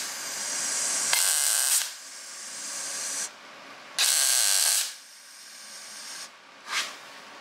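Tack welding a steel rod onto a rat rod T-barrow: two long bursts of harsh crackling hiss and a shorter final one, close and loud, separated by quiet shop background.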